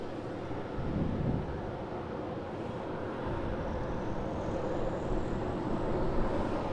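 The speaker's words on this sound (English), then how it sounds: "Qantas 737-800 off of 16 right." A Qantas Boeing 737-800 takes off from runway 16R at Sydney Airport at golden hour, heard as a faint, distant, steady jet roar with a broad low rumble and wind, with no voices.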